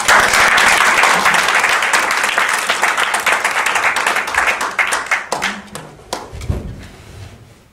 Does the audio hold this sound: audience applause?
yes